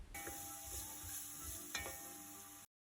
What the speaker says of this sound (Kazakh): қызып тұрған сұйық майдың үстіне пиязымызды саламыз. Және де араластырып